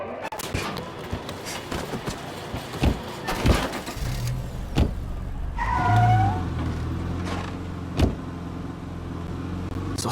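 A car in State of Decay 2 drives along with a low engine rumble under scattered clunks, thuds and sharp impacts, a short tire squeal rising midway, moderately loud and uneven throughout.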